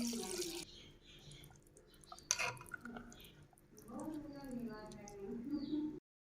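Half a litre of water pours and splashes into a cooking pot of mutton kunna with some clattering, while a voice talks over the sound.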